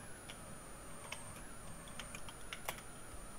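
Slow typing on a computer keyboard produces faint, scattered key clicks at an unhurried, irregular pace against a quiet room background.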